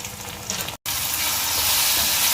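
Onion and small chopped tomato sauté in a pan for a village-style country chicken curry, giving a loud continuous sizzle and hiss with a brief cut of silence before the frying noise resumes.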